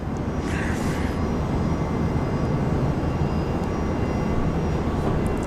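A Jetstar jet airliner lands on runway 19 right at Brisbane International Airport, a broad, steady engine roar heard loud and continuous from start to finish, with no clear speech.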